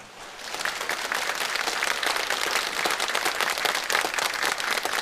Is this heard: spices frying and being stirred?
no